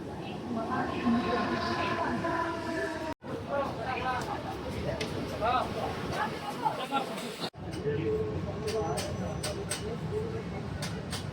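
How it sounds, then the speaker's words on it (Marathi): A train rumbles in with a steady rolling roar and squealing, amid a crowd's babble and voices talking nearby. "आपली ट्रेन आलेली आहे"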